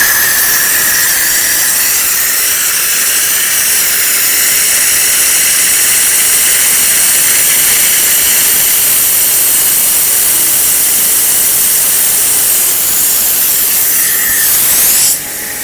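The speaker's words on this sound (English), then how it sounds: "Can see a compressor for getting the compressed air for battery blowing." Compressed air from a compressor blasting out a locomotive battery, a loud, steady, close hiss that runs without a break for about fifteen seconds before cutting off abruptly.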